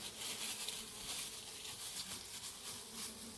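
Bees humming in an opened beehive, a continuous close, buzzing drone with a fluttering texture, steady throughout and with no talking.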